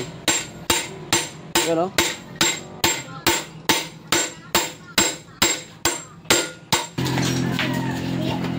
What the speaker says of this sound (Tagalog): Ito po yung maingay na naririnig nyo, no? May kinakabit kasing bushing.